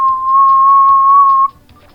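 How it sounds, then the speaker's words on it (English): Steady, sustained whistle blown in the Game Boy Advance game Astro Boy: Omega Factor, one long loud held tone lasting about a second and a half over faint game background, then cut off. "let me blow this whistle"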